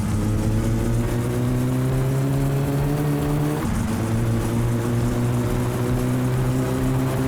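Satsuma car engine from My Summer Car droning steadily on a rally stage with swamps and deep ditches, loud and continuous with harmonic hum and a brief dip in pitch midway, no voices.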